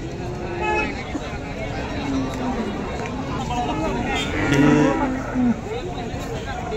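A cow moos at a busy cattle market in Modnimb, with crowd chatter and market bustle around, and a person speaking over the scene.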